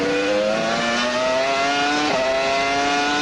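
A NASCAR stock car of 2003 accelerating hard, its engine note rising steadily as a loud, close, continuous whine, with a quick dip at a gear shift before climbing again.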